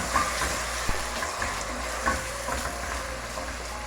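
Frozen peas and tinned corn sizzle in a frying pan as a spoon stirs them, giving a steady hiss broken by scraping and clinking, close up with no voices.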